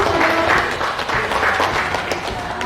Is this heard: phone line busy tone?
no